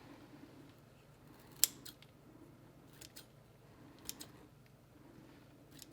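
Scissors snip the tops off young pepper and onion seedlings started indoors, a few sharp isolated clicks spaced a second or two apart over a quiet, faint background.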